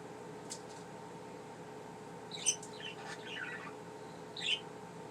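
Pet budgies give a few faint, scattered chirps and short twittering bursts over a low, steady background hum in a quiet room.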